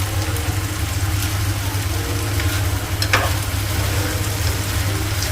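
Onions sauté in a pan for chilli paneer with a loud, constant sizzle, close by and steady, beneath a low hum and an occasional sharp scrape.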